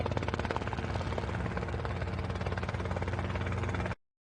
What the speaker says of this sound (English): the scene where Bond is attacked by a helicopter on a hill